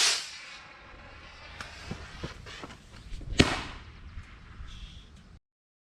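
Homemade missile launched from a bike frame: a hissing rush builds to a sharp loud bang-like burst, then fades into a fizzing tail, outdoors and fairly close, no talk.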